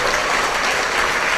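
Dense, continuous applause from a church congregation clapping in praise during worship, a loud even wash of many hands with no breaks.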